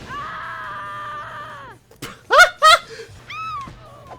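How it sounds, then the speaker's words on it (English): Screams from a boss enemy in a Family Guy video game, rising harsh vocal bursts with a sustained wail before and a shorter cry after, loud and close with no talk over them. "the worst screams are blasting in your ears"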